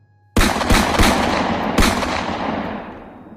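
Several sharp gunshot bursts of a gunfire sound effect in an Urdu audiobook, loud and close, with strong cracks early and one more after a pause, then a long echoing decay.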